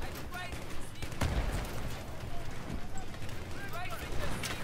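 Gunfire in the video game Battlefield 3, with rapid, crackling bursts of shots and one sharper heavy blast near the middle, all under a constant busy background of battle noise.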